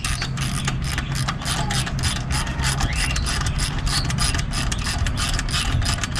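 A hand ratchet loosens a hot 12 mm exhaust bolt on a 2022 Kawasaki Ninja 400, giving a close, continuous run of fast, crisp clicks with an even rhythm throughout.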